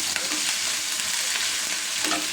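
Chicken pieces frying in hot oil make a dense, continuous sizzle and crackle, close and steady, with brief stirring scrapes and no talking.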